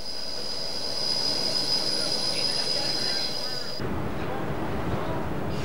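A Picasso X-3800 diesel railcar rolls through Étaples station on steeply canted track, its wheels letting out a loud, sustained high squeal that suddenly gives way to a heavier rumbling rush of the passing car.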